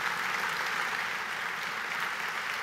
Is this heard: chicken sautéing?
no